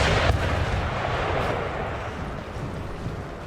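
Cannon fire in the Napoleonic strategy game Napoleon: Total War, a dense rumbling barrage of booming artillery with a sharp blast near the start, sustained and loud throughout with no talking.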